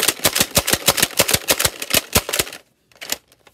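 Nerf N-Strike foam dart blaster firing rapidly in slam fire mode, a fast run of about fifteen sharp, close mechanical snaps, then a brief pause and a couple of final clicks.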